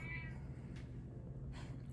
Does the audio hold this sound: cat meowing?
yes